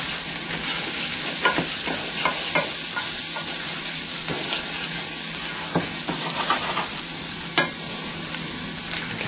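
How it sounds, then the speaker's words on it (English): Rice being stirred in a pan with fried onions, garlic and spice: a steady, close sizzle carries scattered scrapes and taps of the spoon against the pan throughout, with no talking. "And our rice. Give it a bit of a stir."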